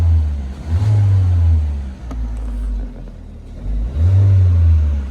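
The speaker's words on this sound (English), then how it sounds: "Very zippy sound from that 4-cylinder engine." A 2016 Scion iA with its 4-cylinder engine revving twice in quick bursts, each rising then falling back to a steady idle between them, close and fairly loud with no talking.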